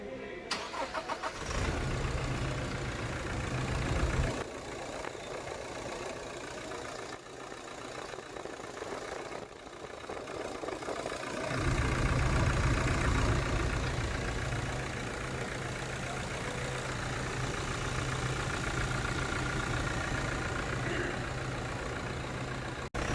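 A 2020 Toyota Fortuner's 2.8-litre BS6 diesel engine cranks and fires up, then settles into a steady, rumbling idle that continues close by, with no talking over it.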